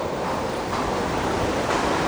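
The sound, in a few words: sea waves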